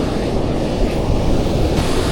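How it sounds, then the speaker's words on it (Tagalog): Strong ocean waves on a fishing shore at Guiuan: a steady, loud roar of surf and wash fills the whole stretch without pause, with wind rumble mixed in and no voices. "Lakas pa rin yung alon."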